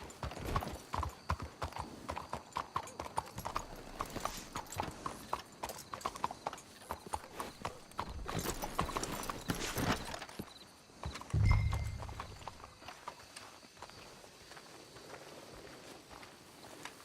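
Horse hooves clip-clopping in the video game Red Dead Redemption 2, a steady rhythmic walking beat of several horses, with a brief whinny and snort near the end and a voice speaking over it.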